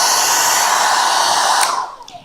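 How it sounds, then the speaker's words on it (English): A hair dryer blasts on its hottest maximum setting, a loud steady rushing whoosh close by that then cuts off and winds down to quiet. "the hairdryer was on the hot mode. It was like the highest mode, the maximum output we could potentially pull out"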